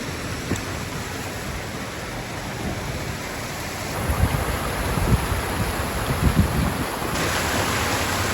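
Waterfall beside a walking path near Llyn Padarn at Llanberis, North Wales, a steady broadband rush of falling water that stays loud and constant throughout, with no voices.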